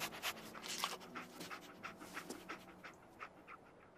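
Dogmeat, the dog companion in the video game Fallout 4, pants in quick, rhythmic, breathy bursts, close by but quiet, with faint background ambience.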